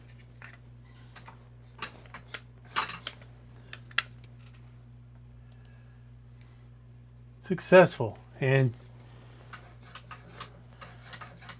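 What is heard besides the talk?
electronic throttle body clicking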